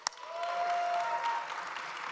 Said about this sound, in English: You're supposed to cheer.